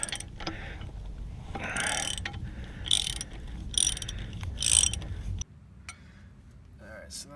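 A ratchet wrench loosens tightly torqued bolts on a McLaren, giving several rapid clicking bursts close up with short pauses between them, then a quieter stretch at the end.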